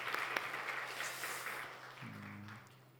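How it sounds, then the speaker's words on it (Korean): A church congregation claps to bless a family with a newborn son, a broad patter of applause that fades out over a few seconds, with a brief tonal sound near the end. "여러분 이 가정을 위해서 축복의 박수 해주시길 바랍니다"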